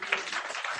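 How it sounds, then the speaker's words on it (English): Brief burst of audience applause at a panel conversation on guardianship in New York State, under a second of moderate clapping from a room of people. "Give her a round of applause."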